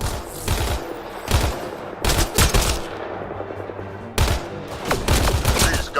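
Gunfire from a firefight in Mass Effect Andromeda, sounding as several loud, close bursts of rapid shots separated by short pauses, over a steady background hum of game ambience, with no talking.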